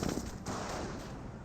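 Gunfire crackles in a Company of Heroes match, likely from a .30 cal machine gun, with a short dense burst of rapid shots at the start followed by a rumbling battlefield wash.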